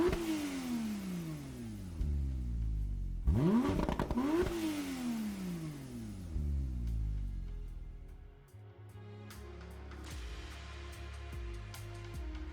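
A 2020 Porsche 911 Turbo S (992) in Gran Turismo 7 revs hard several times, its engine note sweeping up and falling back in repeated loud pulls before settling into a steadier idle with a lighter mechanical whir.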